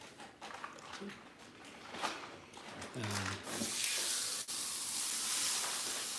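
Steak sizzles and hisses in a hot pan for steak night. The frying swells up loud partway through and then holds as a steady, bright crackle, with talk and some kitchen clatter in the early part.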